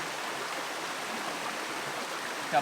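A stream flows steadily near a waterfall along the Appalachian Trail, a dense, even rush of water heard close with a faint brief sound at the end.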